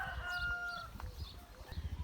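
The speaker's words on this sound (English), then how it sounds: "So we've got loads of chickens here at the Ark farm." Chickens on a farm outdoors in fine weather, with faint clucking and calls plus a brief crow, quiet and somewhat distant, ending in a few short low thumps.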